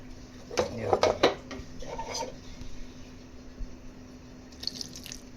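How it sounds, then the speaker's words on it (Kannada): Water poured into a grinder jar during prep of a spiced lentil-and-dal broth, a brief splashy gush with clinks of the jar and utensils, close by, then quieter drips and handling. "ಈಗ ಸ್ವಲ್ಪ ನೀರು ಹಾಕ್ಕೊತಾ ಇದ್ದೀನಿ"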